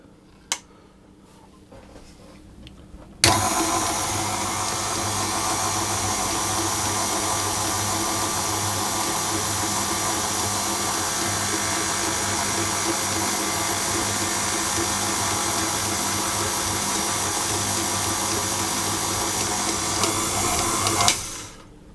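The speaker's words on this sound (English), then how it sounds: "I will increase the speed to a medium speed and knead it for 8 to 10 minutes until I have a nice smooth elastic dough" A stand mixer kneads potato bread dough at medium speed, its motor starting abruptly then holding a loud, steady whirring drone for nearly twenty seconds before cutting off.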